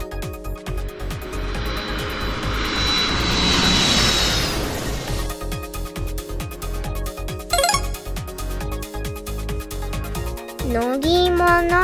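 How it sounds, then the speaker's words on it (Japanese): A cartoon airplane engine drones steadily and loudly in a children's vehicle animation, mixed with bright music and synth tones. "飛行機だよ。"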